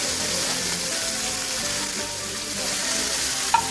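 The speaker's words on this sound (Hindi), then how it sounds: "अब इनको हम हल्के से सौते करेंगे। इनको पकाना नहीं है, सिर्फ हल्का सा फ्राई करना है।" Onion, tomato and other vegetables sauté in a hot pan for kababs, giving a steady, close, loud sizzle that holds evenly throughout with faint stirring, and no voices.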